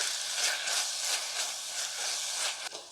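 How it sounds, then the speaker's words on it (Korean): Seasoning paste for sundubu jjigae stir-frying in a pot over lowered heat, a steady close sizzling hiss that pulses gently as it is stirred, with a small clink near the end. "양념 넣고 한 1분 정도 볶았어요"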